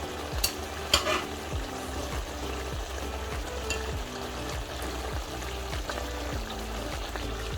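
Fried fish pieces being eased into a simmering mirgal fish curry with uri, a steady close sizzle and bubbling with light stirring and splashing, a couple of small knocks early on.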